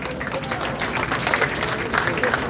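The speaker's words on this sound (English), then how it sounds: "Let me give a round of applause." A congregation at a Baptist Liberation Day celebration applauds, a moderate, steady patter of many hands clapping with a faint voice or two murmuring underneath.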